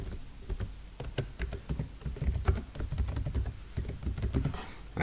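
Quick, irregular clicking of a computer keyboard as comments are typed, close and clear, in short bursts with small pauses and no talk.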